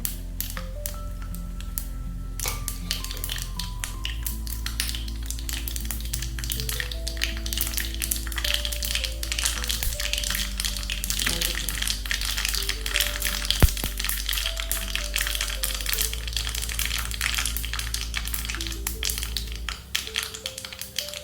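Mustard seeds crackle and pop in hot oil as tempering for drumstick sambar, a dense, continuous spray of close, sharp sputters under a steady low hum.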